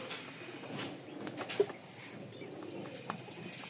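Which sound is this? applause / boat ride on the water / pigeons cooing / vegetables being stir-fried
pigeons cooing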